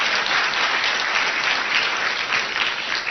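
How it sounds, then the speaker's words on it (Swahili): Steady, loud applause from an audience at a party gathering, clapping for the UDA secretary general, dense and sustained with no pauses. "Tafadhali tupige makofi ya SG."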